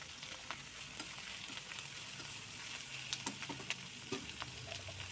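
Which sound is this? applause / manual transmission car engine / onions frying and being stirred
onions frying and being stirred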